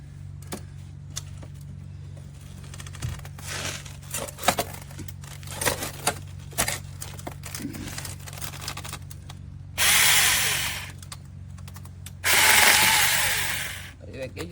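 A SEESII 1000W brushless battery mini chainsaw cutting wood: scattered handling clicks and brief buzzes, then two loud sustained cutting bursts late on, close by, with a little talk in between.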